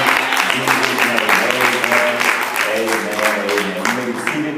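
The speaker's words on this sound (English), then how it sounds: "God one more hand clap of praise in Jesus' name" A church congregation gives a loud, steady hand clap of praise in Jesus' name, dense clapping and voices filling the room nearby without a break.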